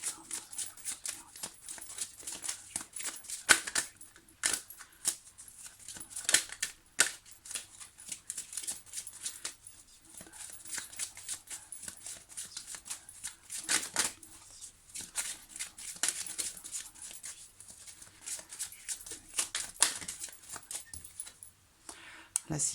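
Tarot cards being shuffled in quick, uneven bursts of soft flicking and riffling, faint and close, with short pauses between runs and a voice speaking intermittently over them.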